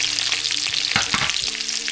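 Garlic and onion stir-fry in a pan for a bitter melon and egg dish, giving a loud steady sizzle with a few stirring knocks and scrapes, and no talking.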